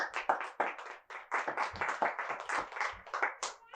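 A church congregation claps in a quick, irregular burst of hand claps, close and fairly loud, with no talk over it.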